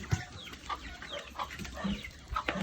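Several chickens clucking at close range, irregular short calls over a steady outdoor background, with no talking.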